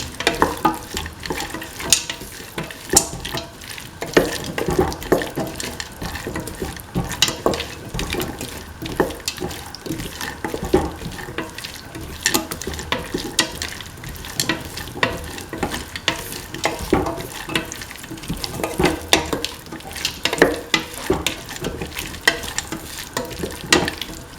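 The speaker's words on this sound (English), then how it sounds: "Thoroughly mix in the green peas with the tomato and the winter melon or ashwood." Green peas, tomato and winter melon stirred in a hot pan, a steady scraping and shuffling with a light sizzle of frying underneath, continuous and close, with no voices.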